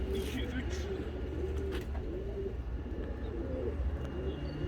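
Soft, repeated pigeon-like cooing from several birds against a steady low background rumble, with faint voices in the background.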